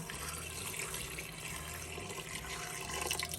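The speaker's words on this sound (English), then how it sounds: "So I just put the water in the pan that I season the cow foot in" Water pours steadily into a cooking pan used to season cow foot for a Jamaican brown stew, a continuous close rushing splash with no talk.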